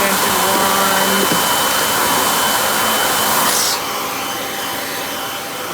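A Kirby Sentria G10D upright vacuum cleaner runs with a loud, steady broadband roar and a faint whine, then its tone drops and softens partway through as the airflow changes.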